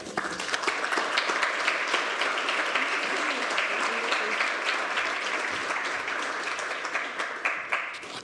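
An audience at an evening panel discussion on liberalism applauds to welcome a speaker, with dense, sustained clapping that stays loud throughout and thins slightly at the end.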